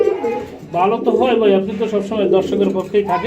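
Pigeons at a wholesale pigeon market, close rhythmic cooing in repeated throaty phrases, loud and near, with people talking nearby.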